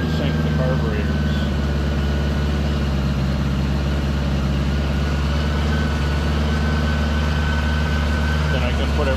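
A 1975 Honda Goldwing motorcycle engine idles high and steady, a continuous loud, close mechanical drone with an even throb throughout.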